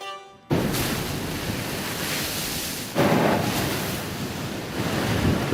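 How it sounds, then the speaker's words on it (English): Foamy Caribbean Sea waves break over cliffs off Antigua, a steady loud roar of surf with gusty wind buffeting the microphone and a fresh surge of breaking water swelling midway. "The foamy waves of the Caribbean Sea break over magnificent cliffs on the neighboring island of Antigua."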